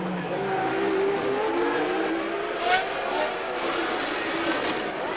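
Formula 1 cars accelerate at the 1981 Monaco Grand Prix, a loud, continuous engine roar with rising whines as cars pass, with faint commentary underneath.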